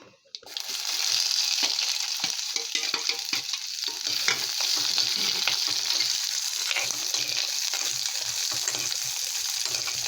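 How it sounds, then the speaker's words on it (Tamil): Onions sizzle and crackle steadily in a hot pan, a constant bright hiss with occasional scraping stirs and no talking. "வெங்காயம் வந்து நல்லா வதங்கணும்"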